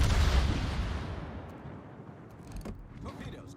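Naval gunfire in the World of Warships video game: one heavy, booming salvo hits at the start and rumbles away into a long fading tail, followed by faint mechanical clatter.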